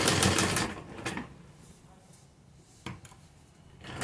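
A sewing machine stitches a salwar in short close bursts of rapid mechanical chatter, stopping and restarting a few times.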